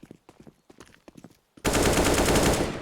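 Desert Eagle pistol shots in a Counter-Strike match, a series of short sharp cracks in quick succession, then a sudden loud sustained burst of gunfire to the end.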